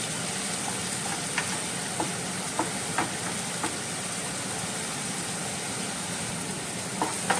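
Cumin seeds and curry leaves roast in hot oil in a pan, giving a steady, close sizzle with a few sharp ticks and pops of spattering scattered throughout.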